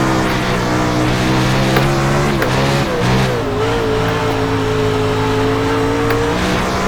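Sprint car engine in an iRacing World of Outlaws dirt race at Lanier, loud and steady with rising and falling revs as the throttle is worked, a continuous close roar with no talk.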